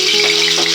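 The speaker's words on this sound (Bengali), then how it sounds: "এবার আমি এই তেলের মধ্যে দিয়ে দেব নুন হলুদ মাখিয়ে রাখা চিংড়ি মাছ।" Salt-and-turmeric-coated prawns hitting hot oil in a kadai, a loud, bright, continuous sizzle with crackling bursts as they fry, with no voices.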